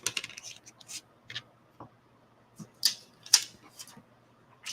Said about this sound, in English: I am going to trim those up just a little bit